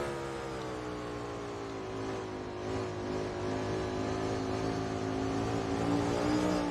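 A race car engine in a snowball derby racing game, a steady droning roar with rising revs held at a constant close level, with no voices.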